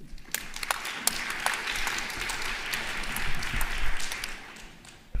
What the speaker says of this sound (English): Please give her a very warm round of applause.